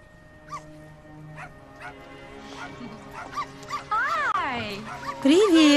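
A dog yips and whimpers in short bursts, with soft whines rising toward the end, while a person talks nearby.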